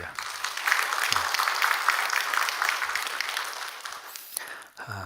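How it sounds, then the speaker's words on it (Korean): Congregation applauding during an early-morning church service, a steady dense clapping that fills most of the clip at moderate level before tapering off near the end. "여러분 박수 한번 해주셔요"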